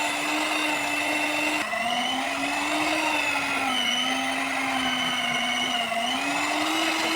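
An electric hand beater whirs steadily as it blends a watermelon drink, a loud continuous motor drone with a slight pitch dip near the start and small wavering through the rest, no voices.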